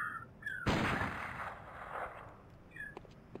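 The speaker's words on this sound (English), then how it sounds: "I'm gonna shoot it." A single loud gunshot from the player's weapon in a PS1-style demake of Bloodborne, a sharp blast followed by a broad, fading rumble, with brief game interface chimes before and after.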